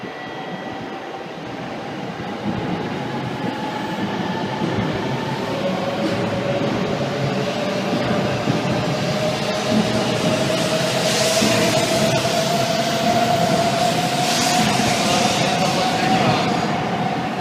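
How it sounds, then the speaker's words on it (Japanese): Train moving through a busy Japanese railway station platform, a steady rumbling roar with a rising tonal whine as it passes close by, loud and continuous, with faint announcements and ambient voices. "列車動いております。"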